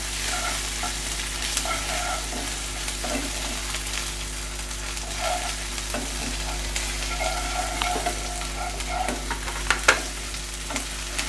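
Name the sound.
ginger garlic paste and onions sautéing in pan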